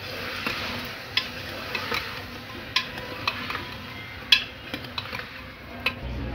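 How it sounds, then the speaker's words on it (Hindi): Turmeric powder being stirred into a potato and cauliflower sabzi in a pan, with soft scraping strokes and small ticks of a spoon against the pan at irregular intervals over a faint background sizzle. "इसे भी अच्छे से मिक्स कर लेंगे हल्दी को।"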